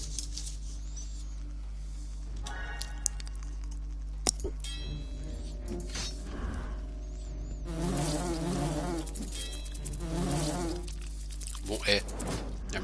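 Wasps buzz in the video game Xulima, a steady insect drone that swells into louder bursts over low game ambience, with some faint game sounds mixed in.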